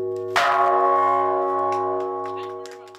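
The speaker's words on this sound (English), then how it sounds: "ring the bell to awaken people's conscience" A single loud bell strike rings out with a long, sustained tone that slowly fades, faint background noises underneath.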